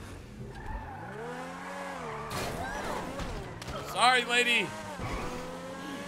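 A fast car in GTA 5 Online revs and swerves with tires squealing and skidding, engine pitch rising and falling, while someone talks over it.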